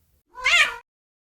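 Kitten meow used as a sound effect in a children's read-aloud story, one short, clear, rising-and-falling mew, close and alone against silence.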